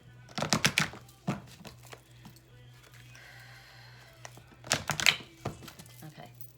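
Tarot cards are shuffled in two close, crisp bursts of rapid riffling and flicking, with a quieter stretch of handling between them and a low steady hum underneath.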